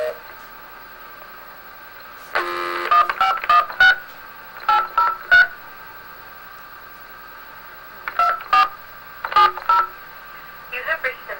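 Clusters of touch-tone telephone dialing beeps come in quick bursts separated by pauses, clear and fairly close over a quiet line hiss.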